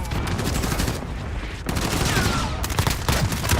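Video game gunfire in a shooter, loud continuous bursts of automatic shots crackling almost without pause across the whole stretch, with short gaps between volleys and no talking.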